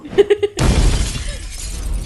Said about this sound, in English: Glass shattering effect, go!